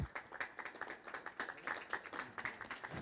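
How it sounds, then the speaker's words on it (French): Audience applause at a municipal council meeting, a dense patter of many hands clapping steadily for about three seconds, fairly quiet and without any talk. "Merci pour ces applaudissements"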